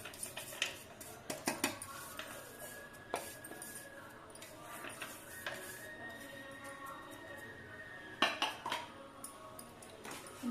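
Rava laddu mixture being mixed in a pan, with scattered metallic clinks and scrapes of a spoon against the pan coming in irregular bursts, fairly faint and close, with no talk.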